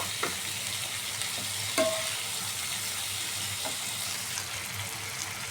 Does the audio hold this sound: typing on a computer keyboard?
no